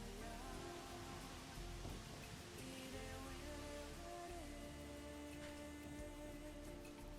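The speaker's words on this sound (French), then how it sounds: "La belle pluie qui va rafraîchir un peu l'atmosphère." Steady rain falls during a yoga session on a hot day, an even hiss of drops that runs unbroken for several seconds, soft and alone under faint tonal hum.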